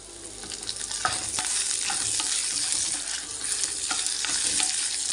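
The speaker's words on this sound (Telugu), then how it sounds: "వేగుతూ ఉండగా ఎండుమిరపకాయలు కూడా వేసేయించాలి." Dried red chillies fry in oil with split black gram for a sesame and raw mango pickle, a steady close sizzle broken by occasional scraping stirs in the pan, with no one talking.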